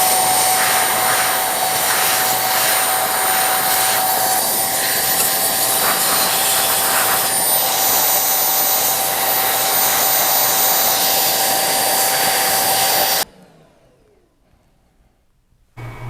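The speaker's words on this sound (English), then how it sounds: "we're going to use our trusty AirTech filtered clean air blower" An AirTech filtered clean-air blower blasts dust off a 15-inch MacBook Pro, a loud, steady, hissing rush of air with a thin whine. It runs unbroken for about thirteen seconds, then cuts off abruptly into near silence.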